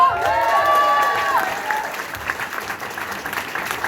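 An audience claps for a panel at a Filipino American creative event, steady close applause with a short whistle-like tone at the start, fading slightly toward the end.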